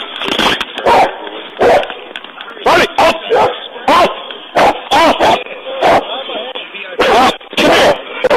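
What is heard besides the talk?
police dog barking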